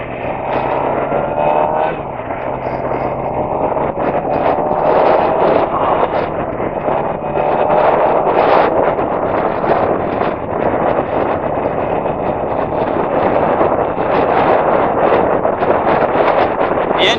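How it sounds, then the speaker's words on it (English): A Suzuki GSXR motorcycle engine drones steadily while riding on a short local trip, its hum mixed with heavy wind rush across the microphone, continuous and loud throughout. "The engine on this motorcycle performs really well in cooler weather too"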